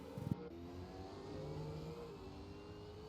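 Race cars race on a track, engines droning steadily at a distance, one rising in pitch as it accelerates, after a brief thump at the start.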